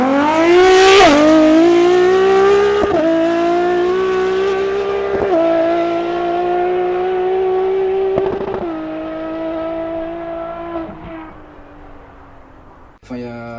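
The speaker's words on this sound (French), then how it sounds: "le V12 avec le bruit V12 Ferrari qui est juste fou" A Ferrari hybrid V12 roars loudly and close, rising through several hard-pulled gears with sharp shift breaks between each surge, ending abruptly in a brief crackle.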